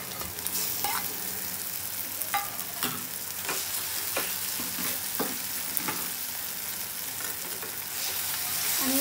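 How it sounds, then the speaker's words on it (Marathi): Finely chopped eggplant fries in a pan over low heat, a steady hissing sizzle broken by scattered spatula taps and stirring scrapes, with no talking. "आणि आता हे आपण वांग बारीक करून घेतलं होतं ते टाकून घ्यायचं।"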